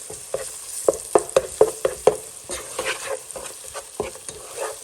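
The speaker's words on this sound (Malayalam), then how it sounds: "ഇതിലേക്ക് നമ്മൾ 2 സ്പൂണ് ജിഞ്ചർ ഗാർലിക് പേസ്റ്റും കൂടി ആഡ് ചെയ്യുന്നുണ്ട്. ഇനി ഇതിപ്പോൾ നല്ലപോലെ ഒന്ന് സോട്ട് ചെയ്തിട്ടുണ്ട്." Onion and ginger garlic paste sautéing in a pan for paneer biryani, with a string of sharp spatula scrapes and taps over a steady sizzle, close and fairly loud, no talk.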